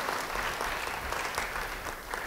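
A church congregation claps during a sermon, a steady wash of applause from many hands throughout, moderately loud and slightly distant.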